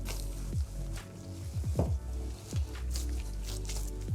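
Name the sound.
wet hands lifting low-carb bread dough out of bowl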